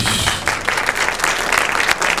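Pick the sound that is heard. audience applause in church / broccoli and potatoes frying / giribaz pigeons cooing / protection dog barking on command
audience applause in church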